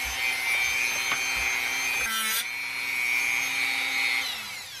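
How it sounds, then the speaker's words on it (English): A Dremel rotary tool grinds through a steel snap ring inside an RCA 7-TR-2 tape recorder, a steady high-pitched whine with a brief pitch dip midway, close and loud with no talking. "so we'll try the Dremel method again."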